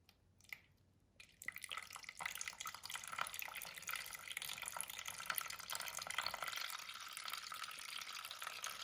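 Tap water runs over a Barbie doll's hair during rinsing, a soft steady splashing trickle after a brief pause, close but fairly quiet with no talking.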